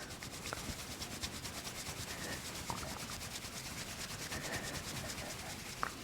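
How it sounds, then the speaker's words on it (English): Cupped hands rub over the ears during a neck-relaxation exercise, giving a steady close, muffled scraping and rubbing texture that continues throughout with a few soft peaks and no talk. "And then cup your hands and just rub your ears."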